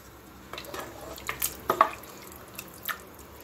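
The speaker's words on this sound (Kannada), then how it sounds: "ಇದಕ್ಕೆ ಸ್ವಲ್ಪ ನೀರು ಸೇರಿಸ್ತಾ ಇದೀನಿ, ಮಟನ್ ಗಿಂತ ಸ್ವಲ್ಪ ಮೇಲೆ ಬರಬೇಕು" Water is added to mutton in a pressure cooker pot, heard as quiet, sparse drips and small splashes in an irregular scatter against a hushed background.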